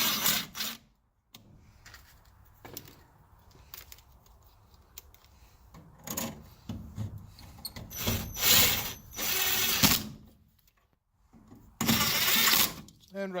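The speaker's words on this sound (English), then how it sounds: "And take and screw the box together." A screwdriver turns screws to fasten an electrical outlet box together for a two-circuit quad outlet, giving ratcheting, creaking and clicking bursts close by, with talk in between.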